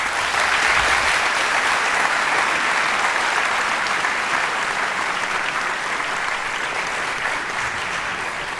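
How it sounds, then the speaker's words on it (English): Conference audience at an agile software event applauding, a dense, sustained wash of clapping from a large crowd that holds steady and fades slightly toward the end, with no voices over it. "round of applause for Dr. Alistair Cockburn, please."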